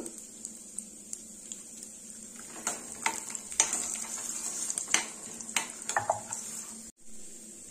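Peanuts, dal and a pinch of asafoetida sizzling in hot oil in a pan while making bajra upma, a steady crackle with scattered stirring clinks and scrapes, fairly quiet and close.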